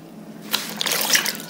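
Water is poured into pots holding tencel, wool and cotton for natural dyeing, a short splashing trickle that starts after a quiet moment and runs close and steady for about a second.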